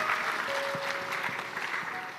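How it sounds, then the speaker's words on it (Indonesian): An audience at an Islamic talk on helping children memorise the Quran claps steadily, a dense and even patter of many hands that holds at one level for the whole stretch with no voices over it. "Tepuk tangan buat bapak-bapak utamanya."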